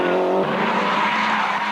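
A Toyota Celica rally car at a 1998 champions event roars past with a sustained engine note and tire skid noise, loud and continuous for a brief moment.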